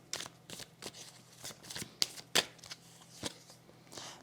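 Tarot cards are shuffled, handled and laid down during a reading, a run of soft papery riffles and slaps with a few sharper snaps, close and quiet, with no talk.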